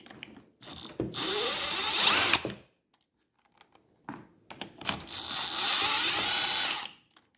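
A socket wrench ratchet loosens tough bolts on an old Craftsman weed wacker, two sustained bursts of fast, loud mechanical clicking separated by a quiet pause, close up with no talking.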